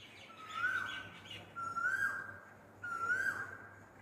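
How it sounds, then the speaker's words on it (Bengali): Outdoor birds call near a home in hot weather, a clear whistled call repeated three times at even intervals over faint background hum. "আর কত রকমের যে পাখির ডাক শোনা যায়।"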